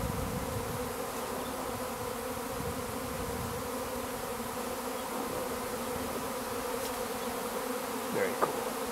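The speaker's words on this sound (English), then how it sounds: "Catching a swarm." Bees forming a swarm outdoors, a dense continuous buzzing drone with layered humming tones holding steady and close throughout, one brief louder buzz passing near the end.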